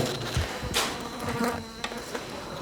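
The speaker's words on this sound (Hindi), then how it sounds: "ये मक्खी की आवाज़ है। मक्खियों की आवाज़ है।" Flies buzz steadily close by, a continuous droning hum with a few louder passes and faint knocks underneath.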